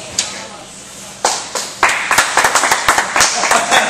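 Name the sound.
office staff clapping for a prank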